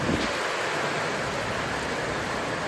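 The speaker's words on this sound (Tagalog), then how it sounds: "Lakas ng hangin at saka may ulan pa." Strong wind roars and buffets the microphone in a continuous rushing blast, with a brief gust at the start and no talking.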